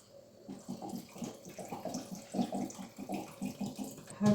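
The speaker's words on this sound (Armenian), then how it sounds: "Ջուր ենք ավելացնում։" Water pours into a cooking pot in a home kitchen, a close, gurgling, uneven splash that swells and ebbs over a few seconds, quiet and with no one talking.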